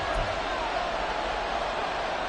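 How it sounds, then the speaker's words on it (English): Stadium crowd noise in the Madden 24 football video game, a dense, constant roar of many voices that stays loud and even throughout, with a commentator talking over it. "And the crowd a major factor now."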